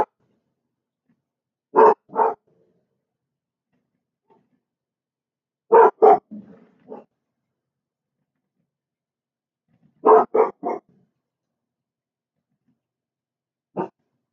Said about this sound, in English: Sorry about the dogs, yo.